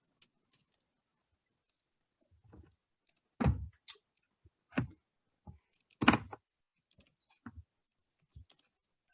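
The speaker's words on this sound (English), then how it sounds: "So you just type in your questions." Scattered keystrokes on a computer keyboard while questions are typed into an online vendor solicitation form, heard as irregular clicks and short bursts with pauses in between, close and fairly quiet in an otherwise silent room.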